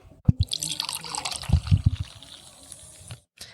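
Water poured into a glass during a school radio show, a short run of splashing, gurgling drips and trickles lasting a few seconds, fairly close and moderately quiet.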